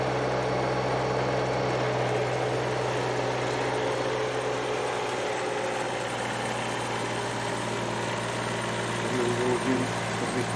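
A snowblower engine runs steadily while clearing snow on a long country lane, a constant droning hum that holds at an even level throughout with no voices.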